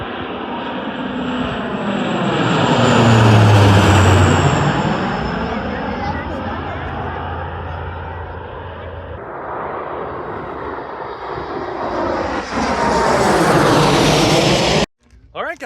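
A propeller plane flies overhead near the Udvar-Hazy Air and Space Museum, its droning engine swelling to a loud roar as it passes close, then holding a steady hum that fades away before cutting off abruptly.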